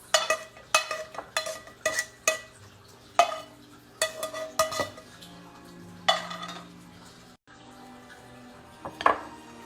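Cooked filling being mixed into cream cheese in a bowl, a run of sharp close clinks and scrapes of a utensil in uneven bursts, a brief pause, then a few more knocks.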